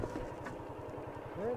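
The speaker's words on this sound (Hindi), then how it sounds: "इस बाइक को मैं अभी ट्राई कर रहा हूँ राइड करके" An old motorcycle engine thrums in a steady, low, regular pulse while being ridden, close and continuous, with a brief voice near the end.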